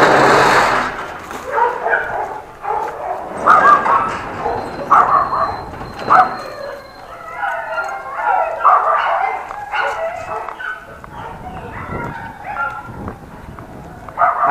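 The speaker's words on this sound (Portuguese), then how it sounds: "os cachorros começou a latir" Several pit bulls bark and yip close by on a walk in overlapping bursts, with whimpering mixed in and some background noise throughout.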